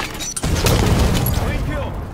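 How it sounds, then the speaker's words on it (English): A grenade blast in Halo 5: Warzone during a fight with Prometheans at an outpost, a loud low boom and crackling debris rumbling over about two seconds, mixed with game effects. "Throwing grenade!"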